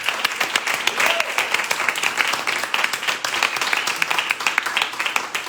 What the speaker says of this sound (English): So can we give our panelists one more round of applause?